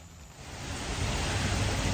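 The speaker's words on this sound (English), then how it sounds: "Well, I asked for rain, and I'm basically getting a hurricane" Heavy rain pours steadily during a summer storm over a garden, a dense, even hiss that swells slightly in the first second and then holds loud and constant, with no voices.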